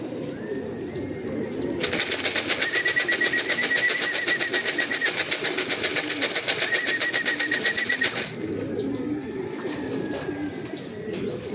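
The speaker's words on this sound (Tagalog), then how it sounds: "Nagdatingan ng mga ibon." A flock of racing pigeons arriving, cooing and fluttering close by, with a dense steady chorus of bird calls that swells, holds, then fades back to quieter ambience.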